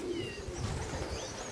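Racing pigeons arriving at the loft coo and rustle nearby, soft low murmuring calls with a few faint chirps, fairly close and continuous without talk.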